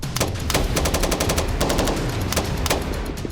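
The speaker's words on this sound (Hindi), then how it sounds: "इजरायली जवानों के जत्थे इमारतों के अंदर घुसकर गोलीबारी करने का अभ्यास कर रहे हैं।" Israeli soldiers fire weapons during combat practice inside buildings of a mock Gaza town, loud rapid bursts of automatic gunfire crackling in close succession with short pauses between volleys.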